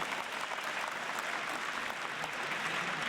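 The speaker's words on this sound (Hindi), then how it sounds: "इसलिए अपने लिए ताली बजाइए एक बार।" Audience at a sports gathering in Bilaspur and Mungeli, Chhattisgarh, clapping in a steady, dense burst of applause that holds at an even level from start to finish with no speech over it.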